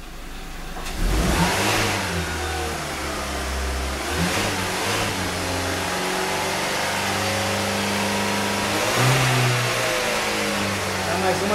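A car engine fitted with a homemade hydrogen generator, revved repeatedly in close, loud surges that rise and fall over a continuous idle, with voices talking in the background.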